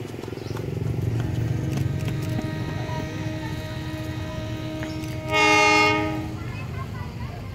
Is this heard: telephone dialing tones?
no